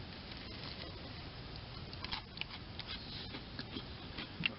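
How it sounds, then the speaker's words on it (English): Rain pattering steadily on a poncho lean-to shelter outdoors, a dense continuous spatter with occasional sharper drips and ticks over the soft wash. "Rain."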